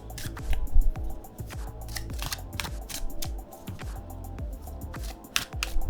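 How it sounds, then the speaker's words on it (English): Linen-finish tarot card deck being riffle shuffled by hand, giving repeated crisp rippling bursts of cards flicking together and soft taps as the deck is squared, close and fairly quiet. "I feel like linen decks are really good for riffle shuffling for some reason."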